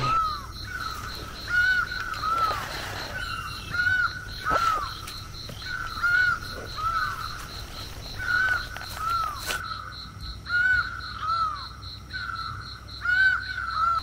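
Crows caw again and again in the forest of Periyar Tiger Reserve in the Western Ghats, their harsh calls coming in short, spaced bursts over a steady, high background hum, with no voices.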